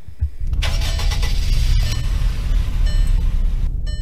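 A 2013 Wolfsburg Handle car in the Roblox game Greenville cranks and fires up, then settles into a loud, steady mid-pitched engine rumble with a few clicks and tones over it.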